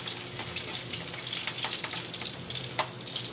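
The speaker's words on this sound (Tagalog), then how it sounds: "Gigisa muna natin yung guys, yung bawang" Garlic sautéing in a pan for squid adobo: a steady hissing sizzle of frying with light scraping and stirring noises and a few sharper pops, close up, with no voices.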